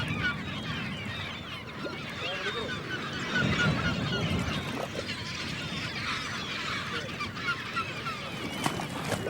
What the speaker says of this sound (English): seagulls follow sharks, hoping to pick up the remains of the kill